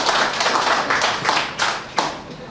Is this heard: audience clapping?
yes